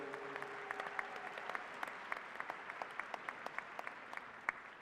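Steady applause from a university commencement audience for the band, a dense, even patter of many hands heard from a distance, fairly faint, with a few sharper claps standing out.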